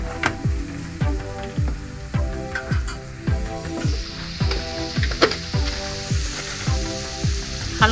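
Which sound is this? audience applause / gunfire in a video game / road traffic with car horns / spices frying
spices frying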